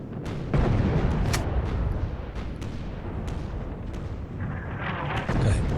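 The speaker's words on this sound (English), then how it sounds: "there's things that sound a bit like footsteps, aren't footsteps, they're some kind of gunshots" Gunfire in the video game Sniper Elite, a dense rumbling barrage of booming shots and blasts under a continuous low roar, several sharper cracks standing out throughout.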